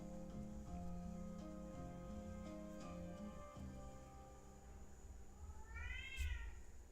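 A cat gives a single faint, rising meow near the end, over a steady, quiet tonal background hum.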